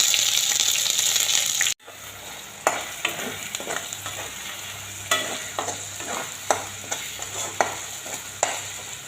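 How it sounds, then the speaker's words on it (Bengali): Bay leaf, dried chillies and ground spices fry in hot oil for a paneer dish: a loud initial sizzle cuts off, then a softer steady frying hiss is punctuated by sharp spoon scrapes against the pan. "তেলের মধ্যে একটা তেজপাতা দিলাম, 2টো শুকনো লঙ্কা দিলাম, গ্রাইন্ড করা সব মশলা দিয়ে দিলাম।"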